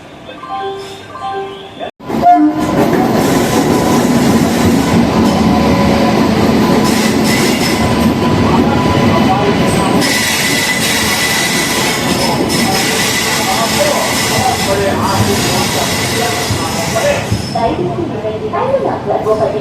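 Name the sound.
trains at a railway station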